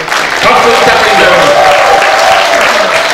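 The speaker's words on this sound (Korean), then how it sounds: "오늘 새벽 6시부터 우리 거리를 다니기 위해서 오신 우리 김진수 의장님께 다시 한번 박수 부탁드립니다." An audience at a provincial council members' rally applauds a council chairman, producing dense, loud, continuous clapping that fills the hall without a break.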